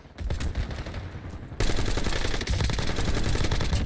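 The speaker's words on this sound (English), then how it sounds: "I got a guy over here shooting at me." Rapid automatic gunfire rattles from a shooter video game, dense continuous bursts that grow louder and heavier halfway through, with no pause in the firing.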